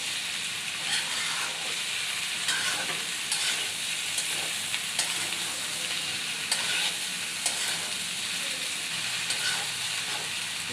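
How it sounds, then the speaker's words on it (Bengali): Okra frying in a pan as it is stirred, giving a steady bright sizzle with intermittent scraping strokes at close range, running continuously without talk. "ভেন্ডি ভাজি নাড়ার উপরে রাখতে হয়, নাহলে সবুজটা চলে যায়।"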